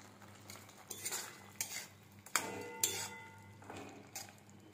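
Butter being stirred into garlic butter prawns with a metal utensil, a handful of close, quiet scrapes and clinks against the pan spaced across a few seconds.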